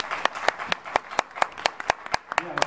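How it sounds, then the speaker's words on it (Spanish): A small audience at a Cuban history academy gathering claps at a brisk, fairly even beat, distinct close hand claps standing out over a faint room murmur. "ya no tuve que pedir el aplauso"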